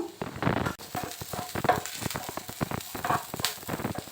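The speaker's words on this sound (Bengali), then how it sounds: "রসুন দিয়ে দিলাম গ্রেট করা রসুনটা দিয়ে পেঁয়াজটা একটু ভেজে নিচ্ছি" Onion fries with grated garlic in a pan, giving a crackling sizzle broken by frequent sharp stirring clatters and scrapes, fairly close and uneven.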